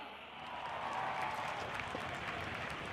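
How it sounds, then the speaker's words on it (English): Large outdoor crowd at an Indian Air Force Day air show on a beach applauds and cheers, a faint, distant, swelling roar of clapping and voices that builds after a brief lull. "can I hear a huge round of applause?"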